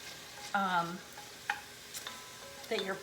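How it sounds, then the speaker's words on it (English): Garlic fried in a hot pot on medium heat, a steady sizzle under scattered sharp scrapes and clinks from stirring, close and moderately loud with no voices. "So I'm gonna put the garlic in."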